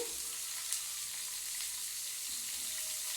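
Pumpkin and eggplant fry in a pan with a steady, soft hiss that keeps an even level from start to finish.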